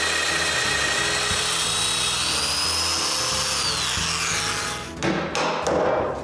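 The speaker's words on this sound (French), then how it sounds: "je peux marquer les endroits où je veux des mortaises de domino et je les perce" A Festool Domino joiner cuts mortises into a wooden part for a bathroom vanity, its loud, steady motor whine running continuously before a few cutting bursts and thumps near the end, with no talk.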